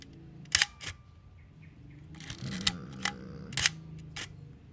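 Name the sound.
Praktica Nova SLR film camera shutter in bulb mode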